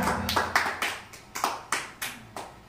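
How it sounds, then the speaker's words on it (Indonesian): A church congregation at a Christmas service claps in unison, about nine sharp, fairly loud claps in a steady rhythm with no voices over them. "Tepuk tangan buat Tuhan Yesus"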